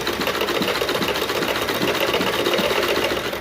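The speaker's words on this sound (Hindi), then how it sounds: "मैं इस तरह से इस पर सीधी सिलाई लगाती चली जाऊंगी" A sewing machine runs steadily, stitching a straight seam along waste cloth for a baby frock, its continuous rapid mechanical whir loud and close throughout with no talking.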